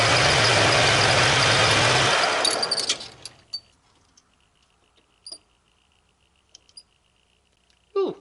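A lathe boring bar cuts out a hole in a metal disc with a dense, rattling chatter up close for about two seconds, then the cutting stops and only scattered small clicks and knocks remain.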